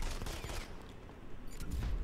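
An airstrike lands in Modern Combat 5: Blackout as a loud, rumbling barrage of explosions and rapid blasts that fills the whole stretch without letup.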